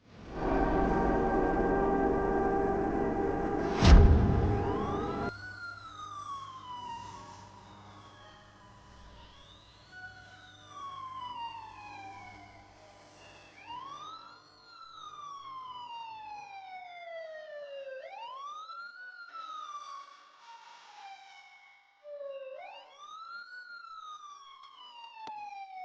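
An ambulance siren wailing, rising and falling repeatedly after a loud thump, its sweeping tones clear and fairly close, with no talking.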